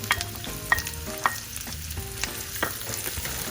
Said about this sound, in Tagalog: So, sa ngayon mainit ang ating cooking oil, lagay na natin ang ating onion.